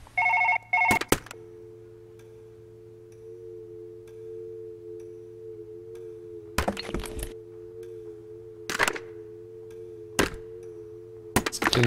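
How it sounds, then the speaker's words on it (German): A telephone rings in a comedy sketch: a steady electronic tone holds for about ten seconds, broken by several sharp clattering cracks and knocks, with no talking. "Telefon schellt."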